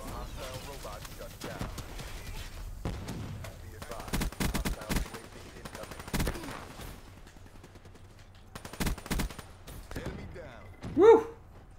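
Bursts of automatic gunfire and single shots crackle through a Call of Duty: Black Ops 3 match, arriving in irregular volleys with short gaps between them. A player talks over the shooting.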